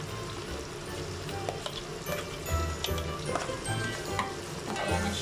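Chopped onion sizzles and crackles in butter in a pan while being stirred, with scraping utensil clicks scattered through a steady frying hiss, close and moderately loud, no talking.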